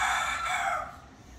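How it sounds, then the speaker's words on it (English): A rooster crows once in a farm setting, a bright drawn-out call that fades off after about a second, fairly near with no voices. "roosters crowing that you may hear in these beautiful sounds of nature"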